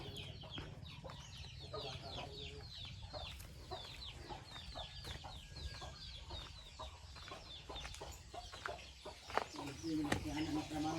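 Several chickens cluck and chatter in short repeated bursts, fairly faint, over a low background rumble with scattered knocks.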